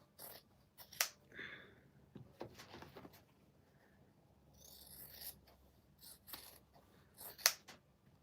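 Scissors cut through quilt fabric with a series of quiet, irregular snips and crisp blade clicks, recorded close and faint, with small handling rustles between cuts.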